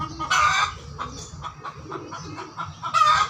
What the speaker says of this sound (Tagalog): ang ingay mo naman manok